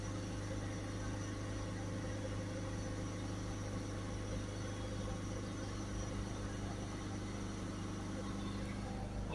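A Ford Focus 1.6 diesel engine, its particulate filter clogged with ash and soot, runs steadily at raised revs, a continuous close hum and drone with no clear rise or fall.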